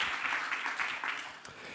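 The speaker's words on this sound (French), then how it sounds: "vous pouvez l'applaudir" Brief applause from a lecture audience welcoming speaker Stéphane Charpier, a short run of moderately distant clapping with slightly uneven swells.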